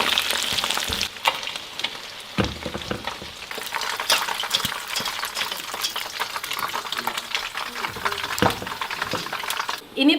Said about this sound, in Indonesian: kalau goreng ayam, walaupun dia nggak nembak tapi harus dijaga